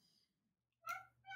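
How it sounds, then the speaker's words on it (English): A cat meows twice, fairly close but quiet, with short tonal calls after near silence. "That's a cat."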